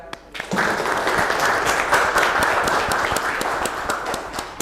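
Sustained applause from a classroom of students, a dense wash of many hands clapping together for several seconds after a brief quiet opening, with scattered sharper individual claps standing out.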